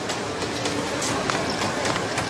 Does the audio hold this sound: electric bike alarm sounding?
no